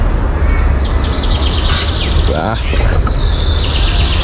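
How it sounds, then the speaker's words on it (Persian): Nightingale singing in Saravan forest park in Gilan, a bright warbling song heard through steady broadband outdoor noise, with a person speaking briefly nearby. "گوش کن این بلبلو، گوش کن."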